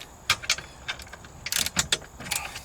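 A torque wrench clicks sharply in a short series of irregular metallic snaps while bolts are tightened to 45, with faint mechanical rattling between the clicks.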